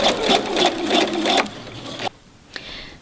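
A sewing machine stitches fabric for a travel snack bag, a steady close mechanical whirring with rhythmic pulses that runs for about two seconds, then stops and leaves faint handling noise and a single soft click.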